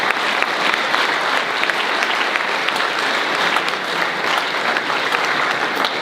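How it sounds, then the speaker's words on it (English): A school speech day audience applauds the Year 10 Special Award recipients, a loud, steady mass of clapping that continues evenly throughout with no speech over it. "Please give a round of applause to the recipients of the Year 10 Special Award for 2021."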